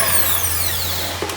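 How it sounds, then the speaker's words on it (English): A vanilla paste mixture being whisked for a bake-off finale, giving a loud, steady whirring that holds for about a second and a half with no talking. "And then I've got to whisk that together."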